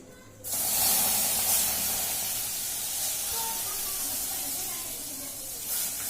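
Packaged milk hits a hot kadai, bursting into a sudden loud hiss that holds steady and slowly fades, with faint voices nearby.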